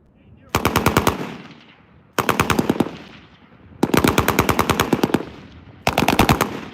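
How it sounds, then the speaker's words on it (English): Several M240L machine guns fire on an outdoor range in four sustained bursts of rapid, evenly spaced shots, loud and close, with short gaps between bursts. "They're all shooting."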